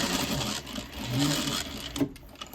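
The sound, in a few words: sewing machine stitching fabric for 18th century pockets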